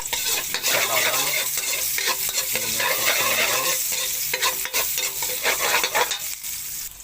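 Steady sizzling of food with garlic being stir-fried in a hot pan, with a spatula scraping and clattering throughout.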